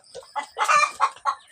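Free-range 45-day chickens eating Madre de Agua leaves give a quick run of close, short clucks, five or six bursts in under two seconds with no talk.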